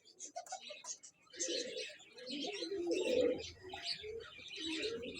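A racing pigeon coos in repeated soft, throaty phrases close by, with light chirps from other birds around it and background noise underneath.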